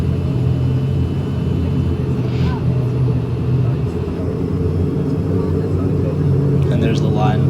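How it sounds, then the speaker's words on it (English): Air Caraïbes ATR72 turboprop backing up the runway on reverse thrust, a steady loud engine roar with a low hum that holds throughout from inside the cabin, with voices murmuring underneath. "the ATR72 is required to reverse thrust to the back of the runway in order to maximize the takeoff distance for the aircraft"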